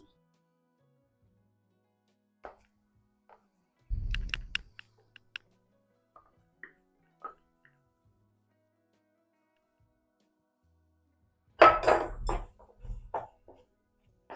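Halwa mixture of cooked moong dal being stirred in a pan, heard as scattered soft scrapes and knocks separated by silence, with two louder bursts of clattering.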